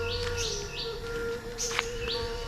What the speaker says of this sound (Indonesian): Ah, ada burung.